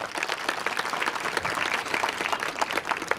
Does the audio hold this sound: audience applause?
yes